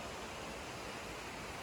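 Creek water runs beside the Kirkland Creek Trail in a wild, overgrown wilderness, a steady broadband rush with no breaks, moderately loud and close, with no voices over it.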